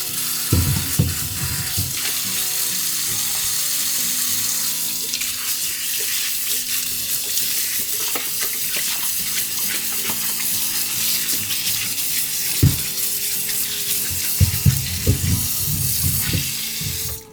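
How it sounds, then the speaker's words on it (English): Tap water runs steadily into a sink while carrots are washed for a vegan carrot lox, a continuous close splashing hiss with a few low clunks and knocks from handling. "So after we finish washing our carrots"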